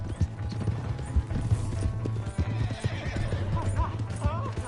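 In Red Dead Redemption 2, a horse's hooves clop in a fast galloping rhythm and it neighs over the steady hoofbeats, close and fairly loud, with voices talking over it.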